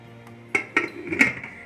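Metal pressure cooker lid being fitted and closed over soaking chickpeas, a few sharp metallic clanks and clinks in quick succession, close and fairly loud with no talk.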